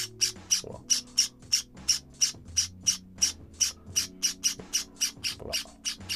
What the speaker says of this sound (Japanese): 文鳥のひな。